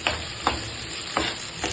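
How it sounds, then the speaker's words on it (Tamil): Capsicum and onion sautéed over a full flame for hotel-style chilli parotta, a loud steady sizzle broken by four brisk stirring scrapes at regular intervals, close up. "இது கூடவே குடமிளகா எல்லாமே ஃபுல் ஃப்ளேமில் வச்சு கடன்னு சேர்த்து அப்படியே பொரிக்க போகிறோம்."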